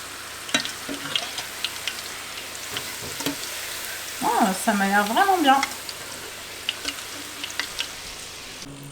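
Food fries in a pan with a steady, close sizzle and scattered crackling pops, while someone briefly speaks partway through.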